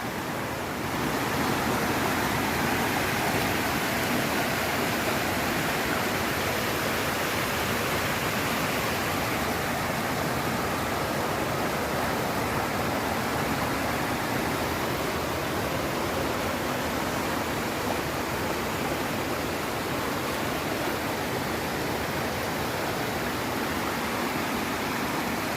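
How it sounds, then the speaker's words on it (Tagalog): A strong current of water rushes steadily in a broad, continuous roar, with no talk over it. "Ito pala yung malakas na agos."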